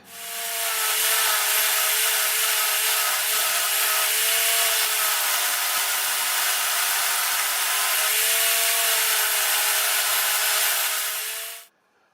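A power router fitted with a tongue-cutting bit runs through wooden deck boards, a loud, steady high whine with a droning tone that dips slightly under load, sustained for about eleven seconds before cutting off abruptly.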